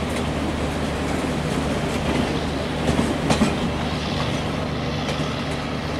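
A WAP-7 electric locomotive hauls the Paschim Express on a Himachal route near Morinda Junction in Trainz Simulator, with a steady, loud rolling rumble and faint rail clatter and no talking.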